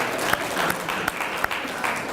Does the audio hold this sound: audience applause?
yes